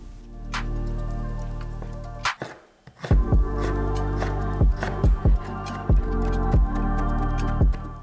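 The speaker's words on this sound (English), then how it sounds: "Of course, let's mince the ginger." Ginger being minced with a knife on a cutting board: a run of sharp, close chopping knocks that comes in quick irregular bursts, the strikes loud and distinct against a quiet background.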